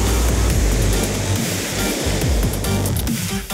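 Heavy ocean surf pounds at a big-wave spot where 50 to 60 foot waves break, a loud continuous roar of crashing water with deep rumbling surges filling the whole stretch.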